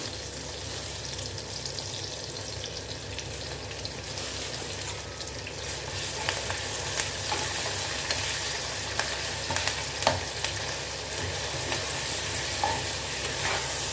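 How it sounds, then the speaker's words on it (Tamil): Curry leaves sautéing with onion and tomato in a pan give a steady, close sizzle, with stirring scrapes running throughout and no talking. "நல்லா அது வதங்கி வரட்டும் இப்போ கருவேப்பிலாம் சேர்த்துக்கலாம்"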